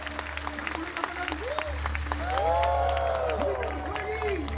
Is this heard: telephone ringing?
no